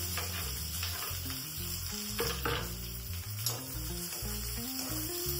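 Chopped onion frying in hot oil in a pan, giving a steady sizzle that sits under prominent background music for the whole stretch.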